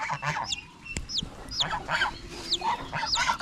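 Chickens cluck and peep nearby, with high chirps from chicks mixed among lower hen calls and faint rustling.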